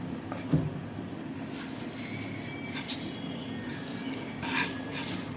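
Raw chicken mince being mixed with salt, chili, turmeric, crushed dried coriander, dried fenugreek, chili flakes, chopped onion and crushed green chilies, giving soft steady rubbing and scraping in a bowl with a few light clinks, alone.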